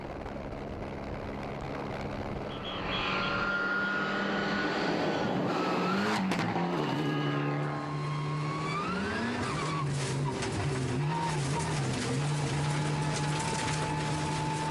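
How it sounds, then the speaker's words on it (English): Onboard engine of a rally car at Rally Estonia, heard loud and close throughout, revving up and down through gear changes with sharp pitch sweeps and a steady roar, with no talk over it. "Riding on board with Alexei Lukyanek, it is clear to see he's having great fun at the top of the tree"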